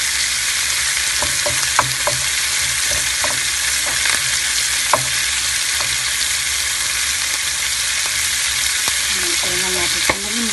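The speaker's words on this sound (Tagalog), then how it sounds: "Pag-tortik-tortik ng mantika." Pork and garlic frying in hot, sizzling oil for pork humba: a loud, constant sizzle close by, with occasional light clinks of stirring and no talking.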